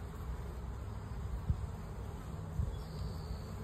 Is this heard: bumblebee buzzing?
yes